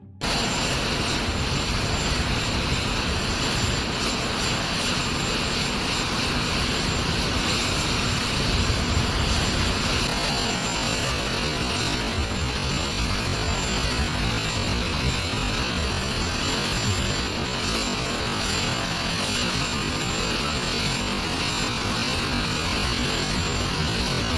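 A steady, loud, unbroken roar from the engines of the US presidential aircraft runs throughout, dense and continuous, like a large plane idling or spooling up on the tarmac, with no voices.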